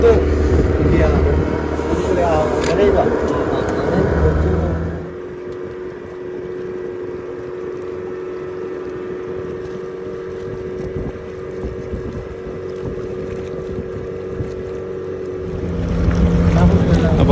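Motorboat crossing the Kabini river reservoir toward a village, its engine a steady droning hum with a low rumble and wind buffeting, louder at the start and end and quieter through the middle.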